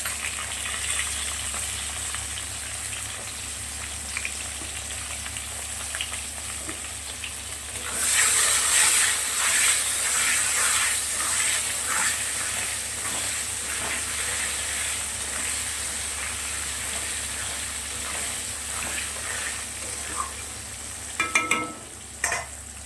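Pieces of pointed gourd fry in hot oil with turmeric and salt in a Bengali home kitchen, a soft low sizzle that swells into a louder steady hiss midway and continues with occasional stirring scrapes.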